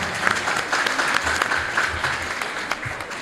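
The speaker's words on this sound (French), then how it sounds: "Un tonnerre d'applaudissements, s'il vous plaît, pour le SUED." Lively applause from the audience at the Miss Science 2021 competition in Mali, close, loud, crisp clapping with some crowd noise, sustained throughout and without speech.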